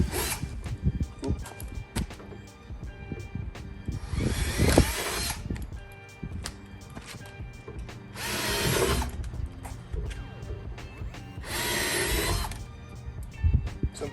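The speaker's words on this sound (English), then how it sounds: "drill straight through those pilot holes" A power drill with a 3/8 bit drills through pilot holes during a wicker bill install on a 3V Mustang, sounding as three loud, sustained whirring bursts between clicking and rattling tool handling.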